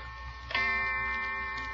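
A clock on a 1945 radio comedy show strikes the hour, giving one clear ringing chime that hangs and slowly fades over faint background hiss.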